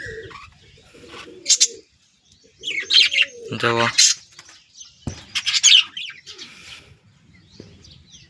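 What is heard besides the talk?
pigeon chicks cooing in a cage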